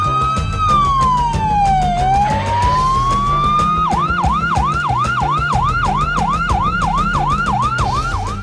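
A hospital ambulance siren blares loud and close, first with a slow rising and falling wail, then with a rapid repeating yelp for the rest of the stretch, and no one speaks.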